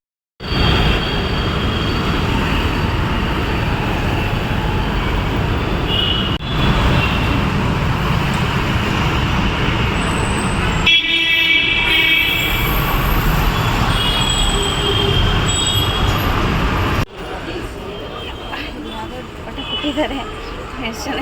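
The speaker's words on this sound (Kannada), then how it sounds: "ಕಾರನ್ನ ಬಿಟ್ಬಿಟ್ಟು ಇವಾಗ ನಾವು ಮೆಟ್ರೋದಲ್ಲಿ ಹೋಗ್ತಾ ಇದ್ದೀವಿ" A metro train rumbles loudly and continuously from inside a carriage, with a shrill metallic wheel squeal rising midway and a sudden change in tone near the end.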